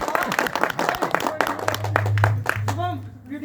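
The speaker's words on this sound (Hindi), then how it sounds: "तो सभी एक बार जोरदार तालियों की गड़गड़ाहट से इनका स्वागत कीजिए।" An audience at a library's Republic Day celebration claps in a burst of applause, dense overlapping hand claps close by that thin out over a few seconds while a voice speaks over and after them.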